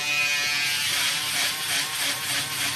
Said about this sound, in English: Now we're going to come in with our shaver.